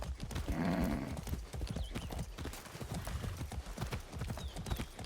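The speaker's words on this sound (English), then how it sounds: "Seems like the horse just could run straight across." Horse hooves clop in a quick galloping rhythm in the video game Far Cry 6, with a brief whinny-like rush of noise early on and faint chirps over the pounding steps.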